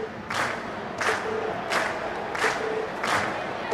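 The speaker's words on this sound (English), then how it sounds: "we've heard your cheers loud and clear" Crowd cheering at a Class VII concert during an academy festival in The Legend of Heroes game, loud repeated swells of cheers and shouts rising roughly every second over a steady crowd roar, with no talking.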